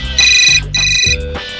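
A phone's electronic ringtone plays in two loud, close melodic bursts with a short gap between them, then a lower tone follows as the call goes out to someone.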